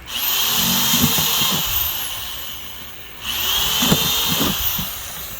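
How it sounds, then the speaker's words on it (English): A power drill whines in two long bursts separated by a short pause, close and loud, with grinding bites as the bit cuts drainage holes into a plant pot. "So I like to use the drill."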